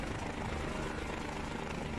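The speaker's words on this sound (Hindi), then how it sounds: "सबसे बड़ी चुनौती होती है बर्फ से ढके पर्वत पर हेलीकॉप्टर को उतारने की" Rescue helicopter setting down on a snow-covered mountain, a steady, continuous rotor and engine roar filling the whole moment.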